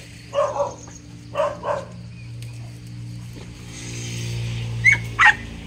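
A hunting dog searching through dense brush near a highway gives a few short yipping barks and whimpers in scattered bursts, fairly close, with a quieter stretch between them.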